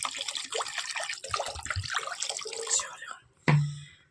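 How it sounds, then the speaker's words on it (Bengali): Water is poured into a cooked, fried spice masala in a pan, a short splashing and hissing pour under a person talking, ending in a sharp splash and bubbling burst near the end. "জলটা দিয়ে দিই।"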